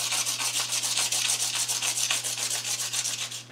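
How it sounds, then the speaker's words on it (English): A drawing pencil being sharpened on 150 grit sandpaper makes steady, rhythmic rubbing strokes, about six per second, close and even throughout, with a low constant hum underneath. "I'm just using some sandpaper to sharpen it."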